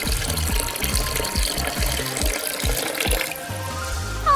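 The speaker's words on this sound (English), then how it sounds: "we can't forget the most important part of all," Water pouring onto a miniature cardboard water slide, a steady splashing gush with rhythmic sloshing pulses, moderately quiet and with no talk.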